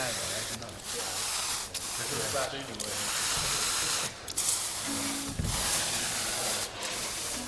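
Dry ice fog hisses steadily on a music video set, a broad continuous spray-like rush that briefly dips every second or so, with faint voices underneath.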